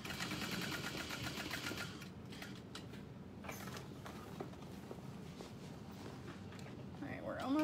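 A sewing machine runs a straight seam on a satchel, a faint mechanical whirr with light clicks and creaks, close by and fairly quiet throughout.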